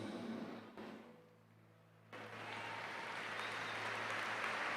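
Congregation applause during a revival church service sermon, faint and distant at first, then swelling into a sustained broad wash of clapping that continues to the end.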